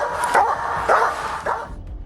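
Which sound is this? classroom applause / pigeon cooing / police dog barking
police dog barking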